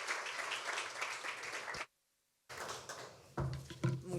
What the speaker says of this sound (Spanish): Un aplauso muy fuerte para Rocío, Pablo y Josep.